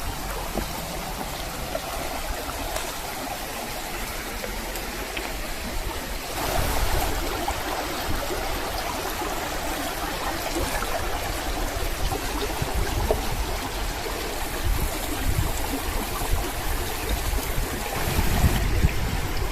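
River water rushes steadily past a storm-damaged weir in Rivelin Valley, a broad even wash with light gurgling, moderately loud and with no voices.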